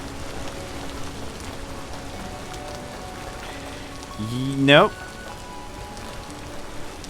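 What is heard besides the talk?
rain falling in the video game Vintage Story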